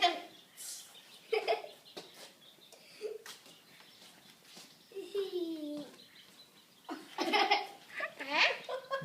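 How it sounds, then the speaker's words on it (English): High, thin cheeping from baby chicks comes in bursts and scattered peeps, mixed with nearby children's voices talking, on a farm. "Baby chicks."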